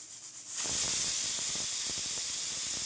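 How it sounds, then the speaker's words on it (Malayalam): Steam hisses loudly and steadily from a pressure cooker whistle while pumpkin and lentils cook for a Kerala erissery, a broad continuous rush starting abruptly after a brief quiet moment and holding for several seconds with faint rattling. "എൻ്റെ കുക്കറിൻ്റെ വിസിൽ കുറച്ചു നേരം കൂവൽ കൂടുതലാണ് കേട്ടോ."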